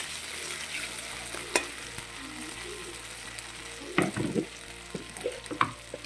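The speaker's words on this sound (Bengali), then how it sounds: "তো আলুগুলো অল্প হালকা হালকা ভাজা করে নেব বন্ধুরা," Potatoes fry lightly in oil, a soft continuous sizzle broken by scraping and clattering stirs with a spatula, close and moderately quiet.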